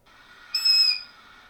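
A clarinet played with too much mouthpiece taken into the mouth gives a single short, thin, squeaky high tone lasting under half a second, played alone and close.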